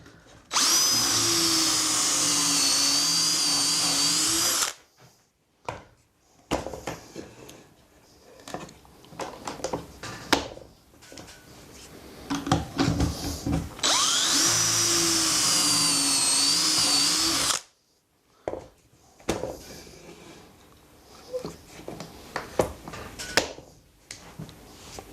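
Power drill boring pocket holes through wood with a pocket hole jig while building a simple table, two loud steady whirring bursts of about four seconds each, separated by clattering handling and shuffling noises.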